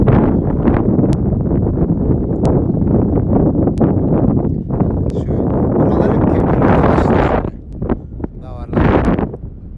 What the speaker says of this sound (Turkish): Rüzgar da var güzel bir şey.